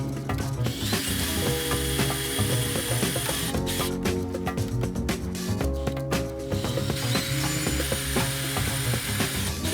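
A power drill bores holes for a Porsche 993 aftermarket front splitter, a loud, continuous grinding whir with rattling mechanical texture and a short change in pitch midway, close up with no talking.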